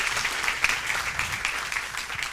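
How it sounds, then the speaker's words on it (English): A conference audience at an inequality event breaks into a steady round of applause, dense clapping from many hands filling the room for a couple of seconds. "And a big round of applause."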